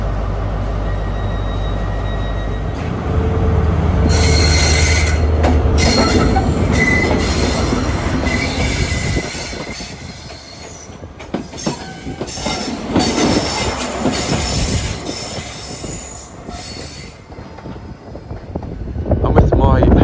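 A British HST high speed train pulling out of a station platform bound for Cornwall, loud and close with a low engine rumble, squealing wheels and rolling clatter building as it leaves.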